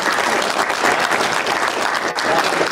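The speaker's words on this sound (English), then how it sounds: "let's give these guys a round of applause" An audience at a city council candidates forum in Payette breaks into a short burst of dense, loud applause, many hands clapping together for a few seconds.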